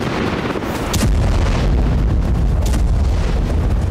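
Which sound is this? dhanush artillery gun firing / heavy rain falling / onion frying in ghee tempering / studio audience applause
dhanush artillery gun firing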